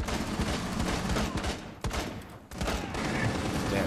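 Dense, rapid gunfire in Rainbow Six Siege, with overlapping bursts of shots and brief pauses between volleys, loud and close. No talking.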